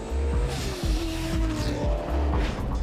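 A 411 cubic inch V8 race car slides on a circuit with its brakes locked, engine roaring loud and close while the tires squeal in long continuous skids with a brief dip partway through.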